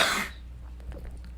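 A single sharp burst at the very start, a sneeze or cough-like expulsion from a person, loud and close, then fading into a quiet room hum.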